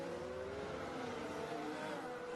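Formula 1 cars lapping the Monza circuit during a practice session, a steady, continuous high engine drone heard from a distance with a rising whine, with no talking.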